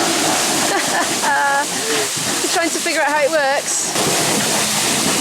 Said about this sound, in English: every so often a big wave comes washing along and it goes down this channel here